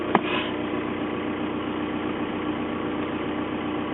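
A car engine idles steadily in neutral after being started, a continuous low rumble with a faint blip at the very start, near and alone without talk.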